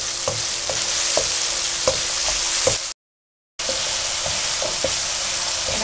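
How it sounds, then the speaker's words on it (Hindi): Tomatoes frying in a pan for a potato, carrot and pea curry, a steady sizzle punctuated by repeated scraping stirs of a spoon, broken by a short silent gap midway. "मैं तकरीबन 3 मिनट से टमाटर को भून रही हूँ।"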